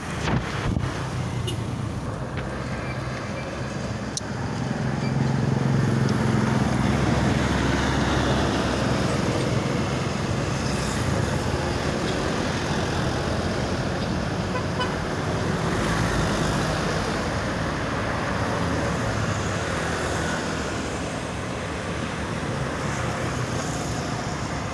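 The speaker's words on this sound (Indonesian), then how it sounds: "Bus akan berangkat kembali menuju" Steady roadway rumble and wind noise around an Indonesian intercity bus pulling away from a Palembang fuel station toward Jabodetabek, a continuous broadband roar with no pauses.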